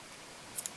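Scissors trimming magenta fox hair to length while tying a Calvins Conebody Templedog salmon fly: two quick, faint snips close together after near silence.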